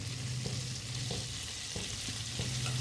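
Garlic, ginger and green chili frying in a pan, a steady soft sizzle with a few light stirring taps, no talking.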